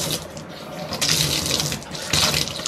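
A tap runs in weak, uneven bursts during a household water shortage, a close hissing flow that surges and eases several times without speech.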